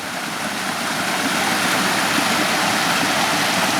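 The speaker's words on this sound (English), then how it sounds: "Here's one little spring coming out of the ground." A small spring flowing out of the ground into a woodland creek gives a steady, continuous rushing wash of water, close and fairly loud, with no talk.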